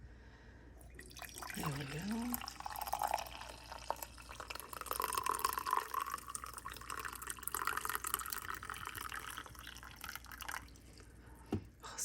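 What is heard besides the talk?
coffee dripping and pouring into a cup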